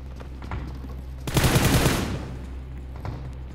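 A short burst of rapid pistol gunfire in the shooter game BGMI, a dense crackling volley of about half a second rising over quiet background noise, then fading.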